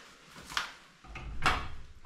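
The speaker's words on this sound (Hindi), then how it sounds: "दरवाजा खोल दे" A door is opened inside a house flooded with water, making a short click followed by a louder scraping thump close by, with no talking.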